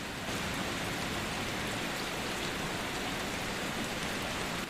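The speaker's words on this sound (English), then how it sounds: "Just soft rain. Gentle rain. The kind that taps quietly on the window glass." Soft, gentle rain taps on window glass as a steady, even hiss that continues unbroken throughout.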